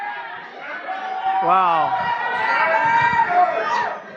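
A large crowd in the White House East Room at a Black History Month event, a dense, close murmur of many overlapping voices with someone speaking over it.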